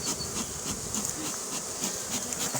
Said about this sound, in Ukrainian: Бджоли зляться, тому що погоди немає нормальної.